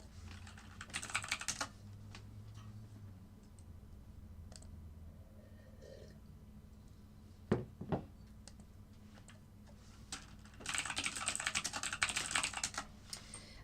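Fast typing on a computer keyboard in quick bursts of dense clicks separated by pauses and a couple of sharper knocks, close and fairly quiet.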